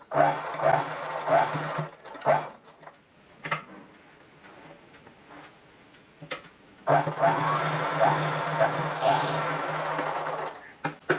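A pico machine stitches along a saree edge with close, steady mechanical whirring that comes in short bursts, pauses for several seconds, then runs in a longer continuous stretch.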